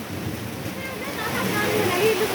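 Steady rain falls in a broad, even hiss that stays close and fairly loud throughout, with a voice or two faintly audible underneath.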